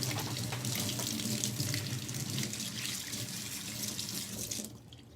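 Tap water runs steadily into a sink to rinse shaving cream off an alcohol ink piece, a continuous broad splashing hiss that holds level for about five seconds before cutting off abruptly near the end.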